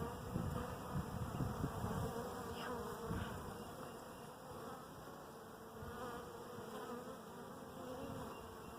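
A dense, steady hum of honeybees swarms over a hive frame holding capped honey, brood and drones, close and continuous with small fluctuations throughout.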